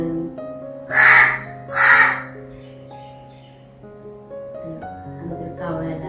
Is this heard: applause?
no